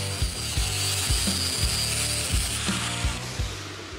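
An angle grinder with a 4.5-inch disc grinds down leftover cut metal brackets on a drag-racing Cadillac hearse rear axle, a loud, continuous close grinding whine with rhythmic pulses as the disc bites.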